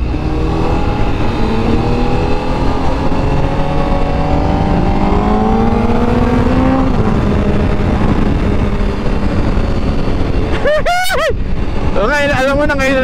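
A Honda Fireblade sport motorcycle revs through its exhaust, a loud, continuous engine drone with rising and falling pitch, close to the listener, with brief bursts of a voice toward the end.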